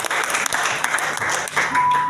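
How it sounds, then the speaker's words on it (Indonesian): Church congregation applauding during a sermon at an Indonesian Christian service, a sustained wash of clapping from many hands, steady and fairly close for a couple of seconds. "Berikan tepuk tangan dulu untuk"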